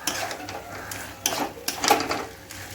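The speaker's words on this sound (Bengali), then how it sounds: "এবারে দিয়ে দেবো আমি ভেজে রাখা পটলগুলো ভালো করে মশলার সাথে আমি মিশিয়ে নেব" Fried pointed gourd is stirred into spice paste in a pan, giving soft intermittent scrapes and clinks of a utensil against metal, fairly quiet and irregular.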